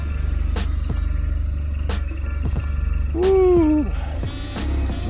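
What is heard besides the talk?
motorcycle riding off through the desert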